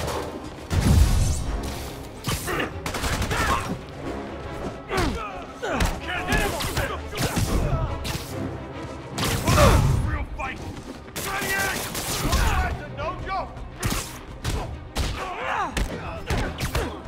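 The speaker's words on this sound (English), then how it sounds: "Open fire!" Dense gunfire from thugs in Marvel's Spider-Man Remastered: rapid overlapping shots and bursts with heavy thuds and crashes, loud and close, continuing throughout with brief pauses, some game voices mixed in.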